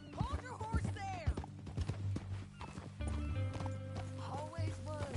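Horse hooves clip-clop on the ground in a PS4 western video game, a steady rhythmic trot close by with a brief whinny, mixed with game music and someone talking over it.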